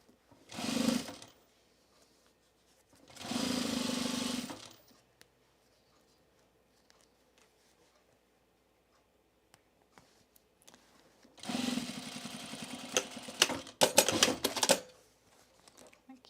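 Home sewing machine back stitching on a fabric bowl cozy, heard as three separate mechanical runs: two short bursts near the start, then a longer, louder rattling run with sharp clicks toward the end, with quiet gaps between.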